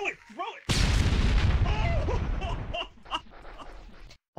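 Grenade blast in VRChat during a capture-the-flag match: a sudden loud broadband boom that cuts in and rolls on as dense noisy rumble for several seconds, with voices talking faintly through it.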